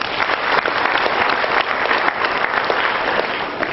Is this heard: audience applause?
yes